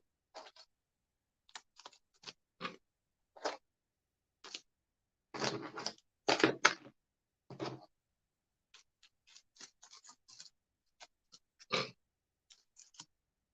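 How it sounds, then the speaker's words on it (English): A plastic bag being handled in a workshop while small parts are sorted, giving irregular crinkly rustles and crackles in short bursts, louder in the middle, with no talking. "Plastic bag."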